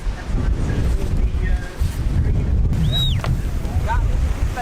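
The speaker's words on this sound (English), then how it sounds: "The wind just picked up." Strong wind at a kitesurfing spot roars and buffets steadily across the whole stretch, with rushing broadband noise and water sloshing beneath, a faint whistle rising briefly midway.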